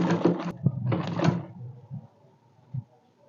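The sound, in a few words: sewing machine sewing bias onto dress neckline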